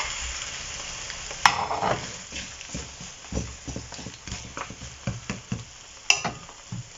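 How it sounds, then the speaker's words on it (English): Potatoes and onions fry in hot oil with a close, crackling sizzle, punctuated by uneven knocks and scrapes of stirring and two sharp clinks. "So once the oil is hot, we'll add the potatoes and onions there."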